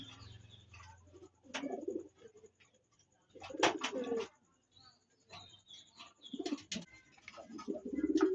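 Pakistani high flying pigeons coo in soft, low bursts at close range, separated by quiet gaps, with a few faint background sounds.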